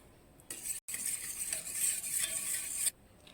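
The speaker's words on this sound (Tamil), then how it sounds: "இப்போ லெமனை ஊற்றிடலாங்க அதையும் நல்லா மிக்ஸ் பண்ணணும்" Lemon juice is stirred into cake batter for a wheat-flour cake, giving a soft, steady wet swishing and scraping in a bowl for a few seconds with a short break, quiet and close with no talking.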